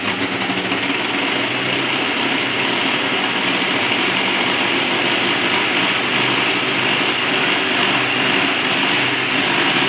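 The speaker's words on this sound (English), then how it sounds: "So now blower is switched on." The blower of a lab forced convection heat transfer rig runs as a loud, steady motorized whir with a constant broadband hum, close up and unbroken, with no talking over it.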